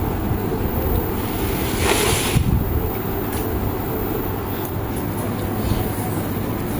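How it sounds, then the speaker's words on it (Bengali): Heavy storm outside with wind and rain, a steady broad roar of rushing wind and downpour that continues without a break. "বাহিরে প্রচন্ড ঝড় বৃষ্টি উঠছে"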